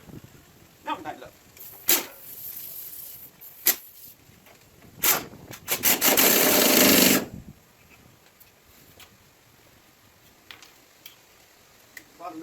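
A nut tightened on a Scarebird disc brake conversion on a 1968 Dodge Charger R/T, quick ratcheting clicks in short bursts with one longer buzzing ratchet run, close up, with quiet pauses between.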